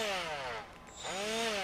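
A cordless power tool spins a bristle disc up to speed with a close, rising whine. The whine dips briefly and then winds back up to a steady high pitch.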